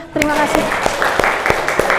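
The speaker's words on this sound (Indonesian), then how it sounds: "Mari kita tepuk tangan semuanya." A classroom of children clapping their hands together in a steady series of sharp, close claps, with a voice speaking briefly at the start.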